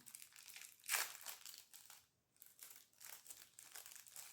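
Advent calendar packaging is opened close up with soft crinkling and rustling of paper or plastic, one sharper crackle near the start and a brief pause in the middle.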